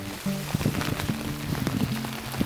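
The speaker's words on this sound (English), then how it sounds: "Do you want to show how much it was raining?" Rain patters steadily outdoors near a river on a university campus, close and even, with a low tonal hum running underneath.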